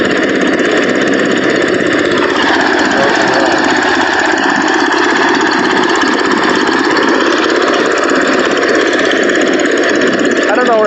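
Rice crop cleaning machine running continuously, a loud near mechanical roar with steady humming tones and a dense rattling texture, unbroken throughout.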